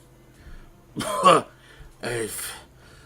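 A voice imitates a rough, hacking cough: two harsh, throaty bursts close up, separated by a short pause.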